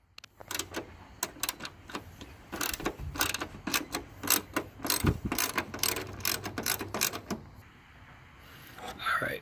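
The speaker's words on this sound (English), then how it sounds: "we're going to get a 10 millimeter socket and take this bolt loose" A ratchet with a 10 mm socket loosens a bolt on a Mustang GT500, clicking in fast, uneven runs of close pawl ticks that stop briefly between strokes, with faint talk underneath.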